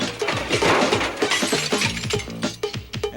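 A basketball backboard's glass shatters loudly and close, with a crashing burst followed by a string of rattling, clinking shards spilling and tinkling across the floor.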